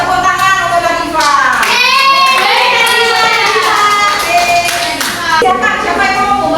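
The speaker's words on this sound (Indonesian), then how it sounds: "Tepuk tangan untuk Diva." Students in a classroom clap for a classmate, close and fairly loud, while young voices and singing-like calls ring over the clapping.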